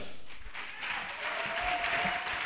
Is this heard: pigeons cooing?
no